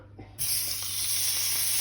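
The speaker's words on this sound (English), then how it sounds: "So what you want to hear is that sizzling when you put it in the pan" Lamb rump hits a hot oiled frying pan and bursts into a loud, steady sizzle that starts abruptly and continues as a close, bright hiss.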